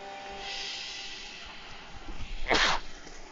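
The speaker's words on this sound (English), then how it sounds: "I'm about to sneeze." A single sharp, loud sneeze bursts out near the end after a few seconds of soft, steady background hiss, from a character in the video game Chicken Police.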